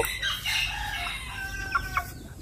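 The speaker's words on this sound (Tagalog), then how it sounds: "So ito yung isang stag natin" A Dumpo line gamefowl stag clucking and breaking into a short crow, close by over steady outdoor background noise.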